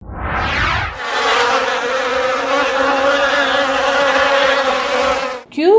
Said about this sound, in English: Q for queen bee.